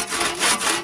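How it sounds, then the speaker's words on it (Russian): A hand saw rasps through a wooden log to cut off a chunk for an Indian candle campfire, with close, loud back-and-forth strokes in a quick rhythm. "Вот отпилили такой чурбанчик."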